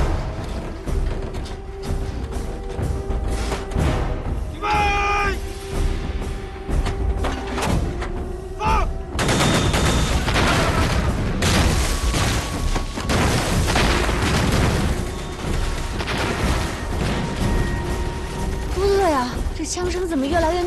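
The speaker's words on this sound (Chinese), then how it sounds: "枪声怎么越来越密呀？" Dense gunfire in a war film battle scene, shots and booms growing thicker, loud and continuous with low thuds and mechanical clatter, soldiers' voices shouting over the fighting.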